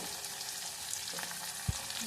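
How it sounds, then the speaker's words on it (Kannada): Spices crackle in oil for the tempering of a leafy greens saaru, a quiet, steady sizzle close by with a single soft knock near the end and no voices. "ಈಗ ಒಗ್ಗರಣೆಗೆ ಒಂದು ಸ್ವಲ್ಪ ಹಾಕ್ತಾಯಿದ್ದೀನಿ"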